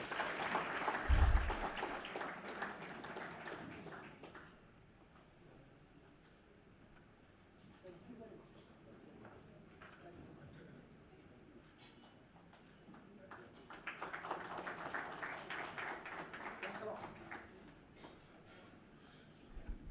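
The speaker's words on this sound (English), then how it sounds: "Give him another round of applause." Lecture audience clapping in two bursts, one at the start and another swell later, fairly faint and distant, with quieter murmur and a voice in between.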